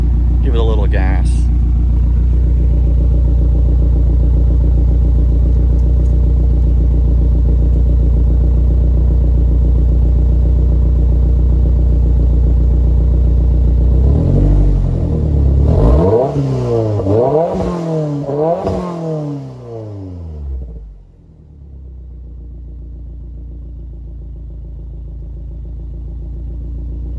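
A daily-driver car idles steadily with a low exhaust drone, then is revved on the gas several times, with rising and falling engine pitch in quick succession, before settling back to a quiet idle.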